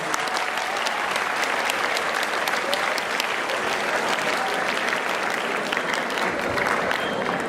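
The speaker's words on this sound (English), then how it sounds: "Can you all of give a round round of applause for these two boys who prepared the documentary?" An auditorium full of boys breaks into loud, sustained applause, a dense, even clatter of many hands that holds steady from start to finish with a little crowd noise underneath.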